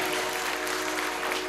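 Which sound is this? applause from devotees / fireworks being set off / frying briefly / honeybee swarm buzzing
applause from devotees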